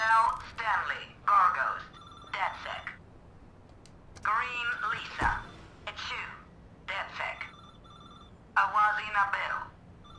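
A payphone with hardware attached ringing in the video game Watch Dogs 2, repeated bursts of electronic trilling separated by short gaps, fairly close, with a voice speaking in between.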